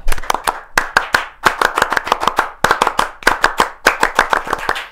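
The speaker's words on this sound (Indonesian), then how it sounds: "dua kali tepuk pramuka" Scouts perform the rhythmic Pramuka clap twice, sharp hand claps in tight patterned bursts with short pauses between the phrases, close and loud with no voices.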